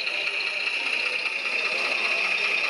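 A tiny pump on a model boat, run at 2.3 volts to simulate engine cooling, gives a steady high-pitched whirring hum, close and continuous with no talk.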